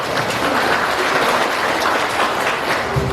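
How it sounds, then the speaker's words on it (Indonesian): An audience claps together at a local community training event in Sepaku, Indonesia, producing a dense, loud, sustained wash of applause with no pauses. "Tepuk tangan dulu ya."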